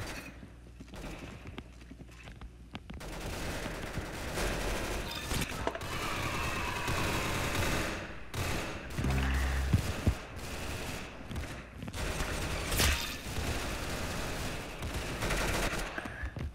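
Rapid gunfire in the Roblox game Arsenal crackles in bursts across a busy, loud game soundscape, with sharp repeated shots and clattering effects, no speech over it.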